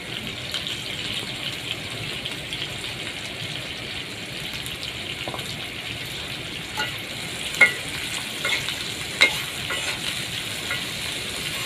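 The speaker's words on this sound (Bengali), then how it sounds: "এখন পেঁয়াজ কুচি দিয়ে দিব।" Chopped onions fry in soybean oil in a wok, giving a continuous close hiss and sizzle with occasional stirring clinks and pops.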